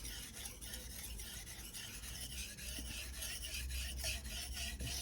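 A ZDP-189 core steel Bunka knife is drawn across a Suehiro 1000/6000 grit combination whetstone, giving a quiet, continuous gritty rasp in steady back-and-forth strokes, heard close and alone.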